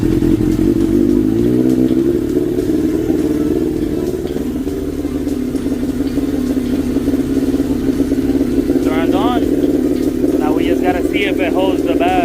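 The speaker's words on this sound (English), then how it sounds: "Let's try to turn this bike on." A motorcycle running after a carburetor fix, electrical rewiring and a new battery, its engine a loud, steady low drone throughout, with people talking over it partway through.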